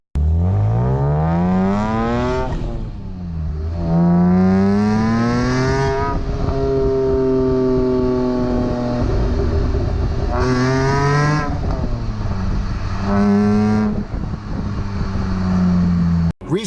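A BMW E46 M3 with manual transmission accelerating hard on the road, its engine rising in pitch through repeated gear pulls, loud and close, each climb broken by a shift.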